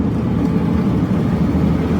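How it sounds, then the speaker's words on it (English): A Ford F-150 pickup truck drives along with a steady, loud, low engine rumble and road drone that holds constant throughout, with no talking. "Truck drives nice. It really drives nice. And it's got power."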